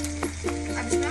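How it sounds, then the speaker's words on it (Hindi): Garlic frying in hot oil in a pan, with a steady close sizzle and a few soft stirring scrapes across the second. "अब हम पैन में ऑयल गरम कर लेंगे, इसमें गार्लिक डालेंगे, इसको फ्यू सेकंड्स के लिए सौटे कर लेंगे।"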